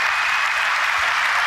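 Applause from a large keynote audience at a tech conference, a continuous bright hiss of many hands clapping at an even, sustained level across the whole stretch.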